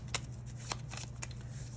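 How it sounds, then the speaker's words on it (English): Tarot cards are shuffled quietly and close, soft riffling with a few sharper snaps at regular intervals over a low background hum, no voices. "Feeling called to like shuffle these more."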